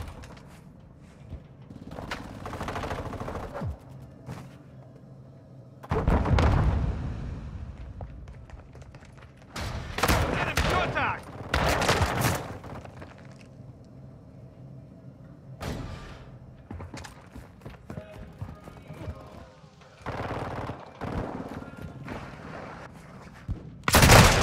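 Video game gunfire comes in several loud, close bursts of rapid shots and heavy thuds, separated by quieter stretches of low rumble and scattered distant pops.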